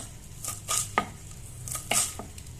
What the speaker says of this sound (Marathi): तर तिला कापून घेऊ, बारीक चांगली चिरून घ्यायची